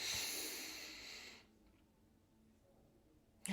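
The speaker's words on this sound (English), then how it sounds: "let's just take a deep breath in" A slow, deep breath drawn in close to the microphone, a soft airy rush lasting about a second and a half before fading into near silence, with no talking.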